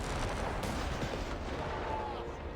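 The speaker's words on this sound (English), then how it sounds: "I have the 2-pounder ready. So I'm just opening fire." A 2-pounder anti-tank gun fires in Company of Heroes 3, with loud booming reports and rumbling battle noise that are dense and continuous, while a voice speaks underneath.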